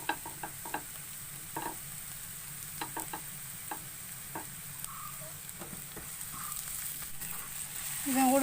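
Potatoes sauté in a pan for a Maggi samosa filling: a soft continuous sizzle with scattered close stirring taps and scrapes, growing louder toward the end.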